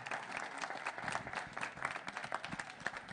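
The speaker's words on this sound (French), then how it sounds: "On peut applaudir Mme Maraval pour ceux qui la connaissent" An audience at a public meeting on preventing youth fights claps for a woman being honoured, the individual hand claps fairly faint and distant yet steady throughout.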